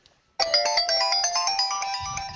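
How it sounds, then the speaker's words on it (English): A phone ringtone blares suddenly and loudly, a busy, bright electronic melody of rapid repeated notes playing continuously for about two seconds with a faint low rumble near the end. "Oh, my phone sounds like it's gonna explode."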